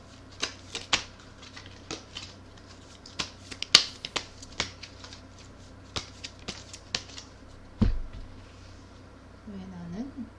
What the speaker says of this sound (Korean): 카드 하나 더 뽑아볼게요